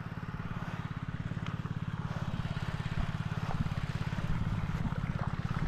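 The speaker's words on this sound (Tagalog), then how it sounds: "Pwede nang patayin yung makina." A small engine drives an irrigation water pump in a field, putting out a steady, rapid putter with a fast even firing rhythm that runs loud and unbroken throughout.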